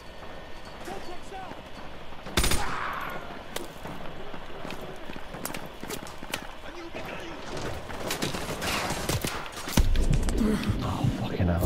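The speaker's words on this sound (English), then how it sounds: "They're out in the open, and the second I move, I'm getting shot." Gunfire from the Modern Warfare 2 Campaign Remastered Contingency mission, sharp shots and bursts scattered throughout over dense game noise, with loud impacts near 2.5 and 10 seconds and talking mixed in.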